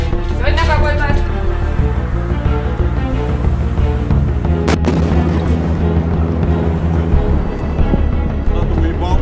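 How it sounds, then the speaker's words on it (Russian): A deep boom from a supersonic meteor entering the atmosphere rolls in midway, a sharp broadband blast followed by a low sustained rumble, with people talking over it before and after. "Это звуковая волна, астероид."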